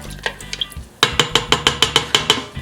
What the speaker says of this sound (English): now we're just going to stir it up